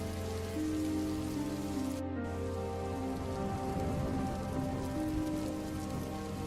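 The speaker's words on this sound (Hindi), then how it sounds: "ठंड की पहली बारिश है, सुबह तक खत्म हो जाएगी।" First winter rain falling steadily on a surface, a dense continuous patter of drops at an even level with no voices.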